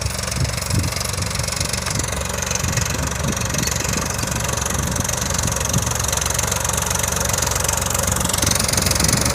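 A tractor ploughing a field in hot summer runs with a loud, steady knocking diesel drone and rhythmic mechanical rattle, close by and continuous.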